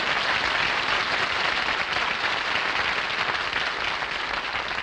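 Steady, dense applause from a large television studio audience, continuous and loud throughout with no pauses.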